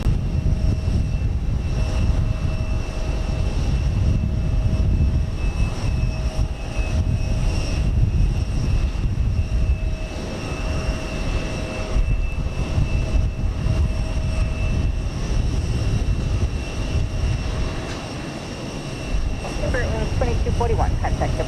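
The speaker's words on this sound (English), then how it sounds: "Spirit Flight 2241 is off to Fort Lauderdale in Florida, an Airbus A321." A Spirit Airlines Airbus A321 jet taking off from Houston Intercontinental roars in a steady, broad engine rumble with a constant whine, heard from a distance at a plane-spotting site, with a voice briefly speaking near the end.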